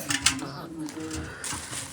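A large 5 kg cooking pot for biryani clanks with a few sharp metallic knocks at the start, then fainter handling noise while someone talks.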